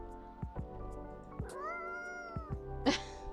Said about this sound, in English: Meow! Ah, kitty!